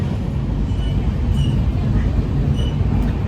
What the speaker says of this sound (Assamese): আমাৰ ট্ৰেইন গৈ আছে